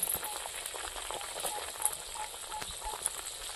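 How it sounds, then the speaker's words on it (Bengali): Fish curry gravy boiling in a pot, a faint bubbling simmer with soft pops and clicks, quiet and close throughout. "ঝোলটা ফুটে উঠেছে"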